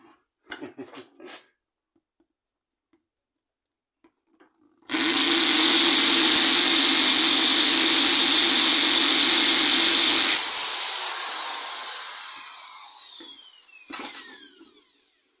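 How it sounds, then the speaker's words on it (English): A power drill whirs loudly and steadily for about five seconds, then winds down and fades, after a few faint knocks beforehand. "I've got my drill back out and all set up"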